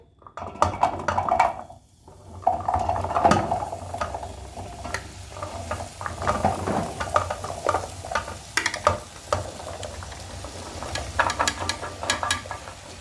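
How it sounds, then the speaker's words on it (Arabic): Zucchini frying in oil in a pan, a steady close sizzle with stirring scrapes and clatter of utensils against the pan, loud throughout with a brief dip near the start and no talk. "تمام كده حطينا الكوسه يا حبايبي عشان تتحمر"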